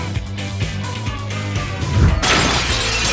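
A sudden burst of glass breaking and scattering, bright and crackling, following a steady tonal background, then lingering tinkling debris.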